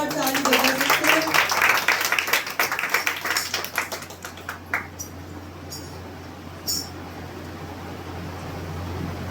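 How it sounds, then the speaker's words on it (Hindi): A church congregation claps together, loud, dense applause that thins into scattered claps and fades out over several seconds. "क्या इस वचन के लिए हम जोरदार ताली बजा सकते हैं?"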